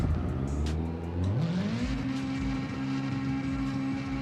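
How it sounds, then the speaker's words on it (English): A car in CarX Drift Racing 2 spins out, its engine pitch sweeping upward into a sustained high rev with tyre and road noise underneath, steady and close. "look how quickly and easily you can spin the car out"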